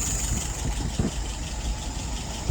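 A car engine idles at about 680 rpm with a steady, low mechanical rumble, close by, with a few soft knocks and clicks on top.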